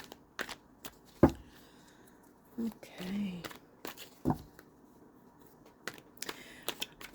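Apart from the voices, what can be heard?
shuffling tarot cards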